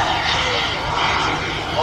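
A huge radio-controlled Nimrod MRA4 model aircraft with an 18-foot wingspan flies with its engines running, a loud, steady roaring drone throughout, with a voice talking underneath.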